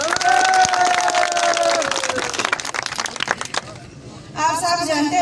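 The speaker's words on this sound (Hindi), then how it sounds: "उनको हम सब भरपूर तालियों की गूंज में" A crowd at a Kashmir election event claps steadily for a few seconds, the applause tapering off, followed by a voice speaking over a microphone.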